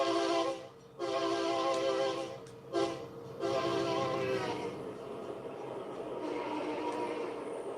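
A simulated locomotive horn in the Southline District train game sounds in several loud, close blasts separated by short gaps, then gives way to rumbling rail noise as the train runs on; no one talks.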